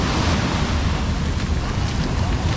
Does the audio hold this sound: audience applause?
no